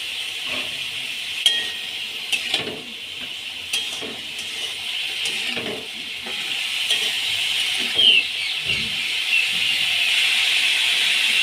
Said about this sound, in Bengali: এবার ওর মধ্যে অল্প পরিমাণে নুন দিয়ে দেব, দিয়ে ভেজে নেব।